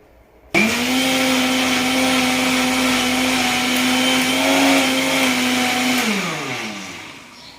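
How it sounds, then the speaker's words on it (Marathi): A kitchen mixer churns cream into butter, its motor switching on abruptly into a loud, steady whir that holds for about five seconds before winding down and fading. "आता मी मिक्सर चालू केल्यावरती आपण थोड्या वेळात बघणार आहे"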